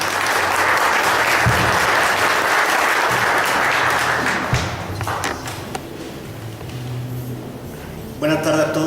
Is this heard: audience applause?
yes